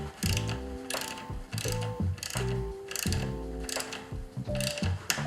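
A torque wrench set to 8 tightens bolts one at a time during assembly of a new Cervélo S5 road bike, ticking in quick ratcheting clicks in short bursts with brief pauses between them, close and crisp.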